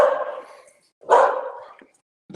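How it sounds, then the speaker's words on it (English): Several dogs at home bark in two loud, close bursts with a short silent gap between them, and nobody talks over them. "my dogs are going to start barking here in a minute"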